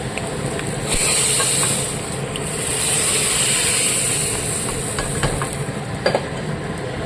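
Hot tempering poured into a banana and lentil erissery, a Kerala curry, giving a steady loud sizzle in two long bursts over several seconds, fading toward the end with a few small clicks.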